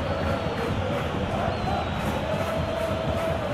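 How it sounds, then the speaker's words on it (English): Crowd noise in a PES 2021 football match, Bayern Munich against Barcelona in the Champions League, as a substituted player leaves: a steady, broad stadium roar of applause and cheering, distant and continuous. "it's good to see that the crowd appreciate his efforts"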